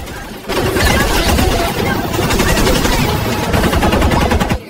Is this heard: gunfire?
yes